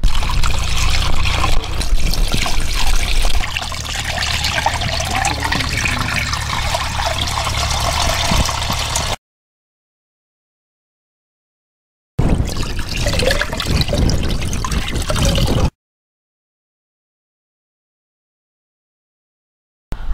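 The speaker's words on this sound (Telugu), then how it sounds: "ఈ విధంగా నానిన 12 గంటల నానిన మిశ్రమాన్ని ఒక గుడ్డ సహాయంతో వడబోసుకోవాలి" A mixture of tumma bark soaked in water for 12 hours is strained through a cloth, producing a loud, close splashing and trickling of liquid that stops abruptly twice.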